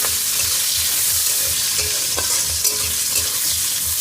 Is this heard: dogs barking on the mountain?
no